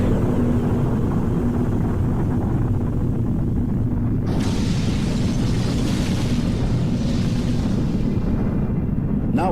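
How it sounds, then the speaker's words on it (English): Hydrogen bomb explosion, a deep, continuous roaring rumble that fills the whole stretch and swells brighter and harsher about halfway through, with no voices. "The splitting of deuterium was the basis for the creation of the most destructive bomb,"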